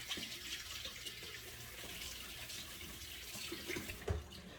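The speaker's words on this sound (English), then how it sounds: "I have to wash my hands because I was touching the raw bacon" Tap water runs steadily into a sink while hands are washed, with a soft continuous splash and a small thump near the end, fairly quiet and close, and no talk.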